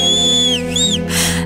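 A loud whistle blown in sliding, swooping tones over a steady low hum, ending in a short breathy burst.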